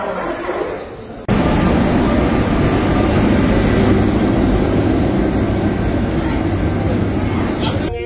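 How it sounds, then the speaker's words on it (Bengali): Inside the Agniveena Express passenger train on the way from Bardhaman to Howrah, a steady, loud rumble and rattle of the carriage on the rails carries on without a break after an abrupt start. "আমাদের ট্রেন ছিল সকাল 7:11 অগ্নিবীণা এক্সপ্রেস।"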